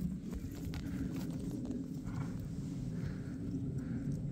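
A horse walking over stony mountain ground, its hooves clip-clopping in a steady close rhythm over a low rumble of wind and handling noise.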